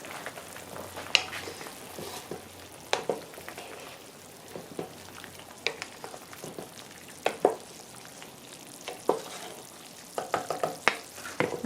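Plantain and eddoes takari cooking in a covered pot, giving a soft, steady sizzle and bubbling with scattered sharper pops and crackles throughout, fairly quiet and with no voices.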